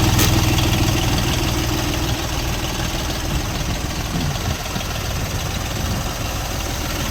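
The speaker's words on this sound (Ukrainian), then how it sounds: "Ось такий новенький тракторець 2024 року." A new 2024 Dongfeng 244G2 four-wheel-drive mini tractor idles nearby with a steady, rumbling diesel chug and a faint knocking rhythm, loud and continuous with no speech.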